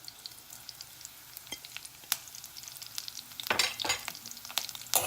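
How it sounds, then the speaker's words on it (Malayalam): Chilies and curry leaves go into hot oil for a Kerala fish curry, giving a quiet crackling sizzle with scattered pops that swells into a louder burst toward the end. "ബാക്കിയുള്ള ഈ മുളകും കറിവേപ്പിലയൊക്കെ അങ്ങ് ഇടാം"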